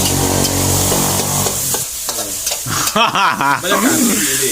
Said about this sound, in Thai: ผัดกะเพราไปด้วยนะพี่น้อง